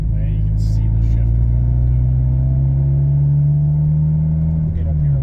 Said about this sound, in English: As I shift, I can hear the engine flex.